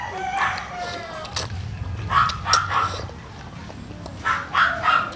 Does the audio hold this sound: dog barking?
yes